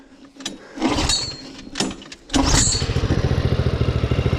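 The Harbor Freight Predator engine on a mud mower sputters through a few short bursts, then catches and runs with a rapid, even throb, loud and close, with no one talking.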